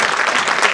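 Applause from an audience at a logistics talent competition award ceremony, a dense, steady wash of clapping filling the whole moment without pause.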